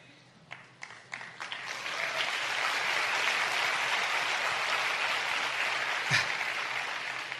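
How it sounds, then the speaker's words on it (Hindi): An audience breaks into applause after a few scattered early claps, and the clapping swells into a dense, sustained roar that holds steady at a moderate distance for several seconds; no talk is heard. "और जब आप ताली बजाते हैं ना,"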